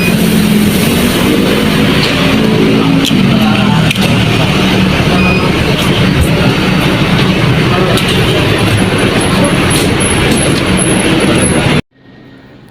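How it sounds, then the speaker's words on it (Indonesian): Inside a crowded city bus in Jakarta, a loud steady engine drone and road rumble with clatters and rattles throughout, ending abruptly into quieter background. "kita sudah berada di dalam bis"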